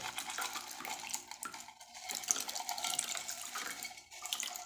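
Water pours steadily from a tap into a container to soak Mestiza F1 bitter gourd seeds, making a close, continuous splashing gurgle with small fluctuations and no speech.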